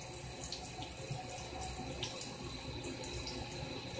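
Water runs steadily from a tap into a sink, a continuous quiet splashing stream with faint dripping and spattering accents and no voices.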